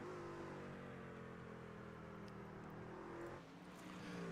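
Race truck engine in an iRacing truck series race at Charlotte, a faint, steady drone with a brief drop in pitch near the end, like a gear shift.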